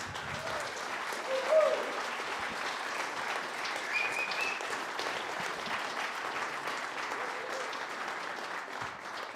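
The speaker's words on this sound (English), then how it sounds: "Let's have another round of applause for Stanzie" An audience applauds a speaker after a talk on living in alignment, a steady wash of many hands clapping at moderate distance, holding evenly for the whole stretch with a slight swell near the start.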